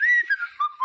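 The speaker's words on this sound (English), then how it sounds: "you can also whistle, like I was just doing" A person whistles a short gliding tune, clear and close, with a few sustained notes sliding gradually downward in pitch and brief breaks between them.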